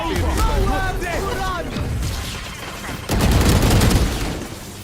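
Valorant match with a grenade blast and bursts of gunfire, a loud dense boom landing late over continuous rapid shots, with voices talking throughout.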